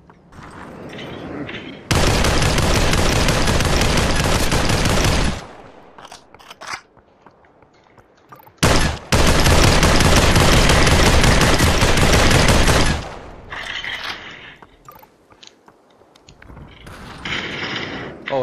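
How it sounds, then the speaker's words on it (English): Rapid bursts of automatic gunfire in Population: One, a VR battle royale game, in two long loud stretches separated by quieter gaps with other game sounds. "I'm giving cover fire in a second."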